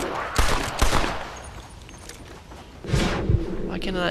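Scattered gunshots in the Red Dead Redemption Undead Nightmare video game, a few loud reports at the start and again near the end, with quieter ambience in between and a player talking.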